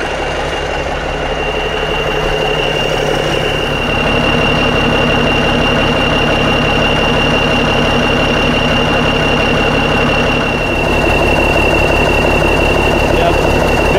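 A 1989 Freightliner cabover truck with a leaking head gasket runs on the road, its heavy diesel engine droning loud and steady up close with a rhythmic knock and a high whine, and it revs up slightly near the end.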